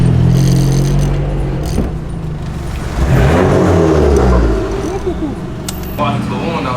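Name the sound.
car driving to the car wash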